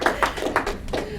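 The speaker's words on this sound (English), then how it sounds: "And you can clap." An audience claps after an official proclamation is read aloud at a scholars' roundtable event, a short burst of sparse, distinct hand claps heard close and fairly loud.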